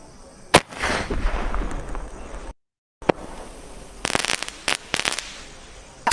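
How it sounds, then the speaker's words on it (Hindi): A large sky shot firecracker gives a sharp bang, then a crackling, hissing burst, a short silence and a series of loud popping explosions nearby. "यहाँ पर हमारे पास आ चुका है बिग साइज स्काई शॉट"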